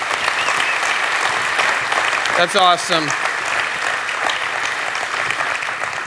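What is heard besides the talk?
audience applause in church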